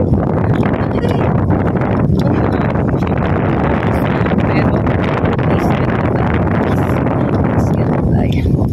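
Strong, cold winter wind in Finland buffets the microphone in a loud, steady roar with gusty rumbling, while a person talks intermittently underneath.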